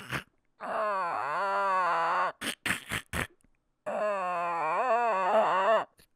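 A dog whimpers and whines in long, wavering high-pitched moans, two drawn-out cries separated by a few short sniffs or snorts, close and clear with no talking.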